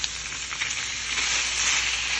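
Crumbled tofu, tomatoes and spinach sauté in a hot pan, giving a steady, close, bright sizzle with light stirring noises throughout and no talking.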